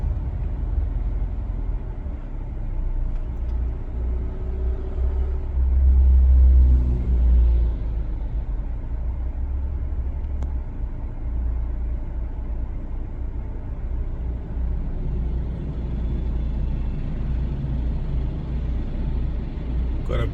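A bus passes close on the right on a Dubai road, a steady low engine rumble under continuous traffic noise with a brief heavier swell midway, no voices.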